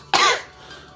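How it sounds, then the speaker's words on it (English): A single sharp cough from a girl said to have COVID, close and fairly loud, followed by quiet. "You're coughing like crazy."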